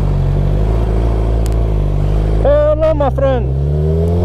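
A Suzuki GSX-R600 engine drones loud and close, then gets several quick throttle blips that rise and fall in pitch. Someone speaks briefly over the engine.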